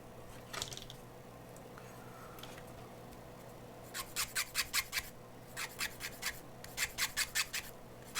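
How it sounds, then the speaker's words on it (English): Sandpaper rubs a small plastic part from a Millennium Falcon model kit in short, quick bursts of rasping strokes, close and fairly quiet, several strokes grouped in rhythmic runs after a few scattered scrapes. "And sanding this off."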